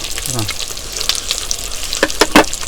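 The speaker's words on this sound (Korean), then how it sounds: "야외 나서 여기 삼겹살 구우고 하는 거 처음" Pork belly sizzles in a cast iron cauldron at an outdoor campsite, with a steady frying hiss and a burst of sharper crackles and pops near the end, close and fairly loud.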